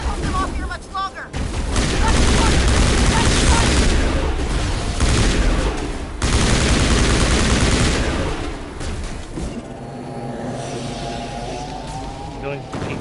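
A grenade explosion and sustained gunfire in the action game Mass Effect, loud bursts and booms thick across the whole stretch, with voices talking over the combat.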